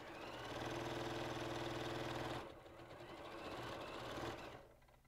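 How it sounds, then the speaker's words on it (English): A sewing machine runs fast and steady, stitching forage bag fabric, then slows and pauses briefly before another short run that fades at the end; no voices. "We're just sewing as fast as the wind now."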